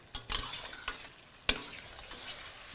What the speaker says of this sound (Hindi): हल्का सा मैंने घी डाल दिया जी, क्या भुनाई में थोड़ी मदद हो जाएगी